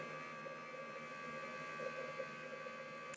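A StylPro Expert brush cleaner spins a makeup brush dry, giving a steady close mechanical hum and whir with constant tonal buzz, running evenly before cutting off abruptly at the end.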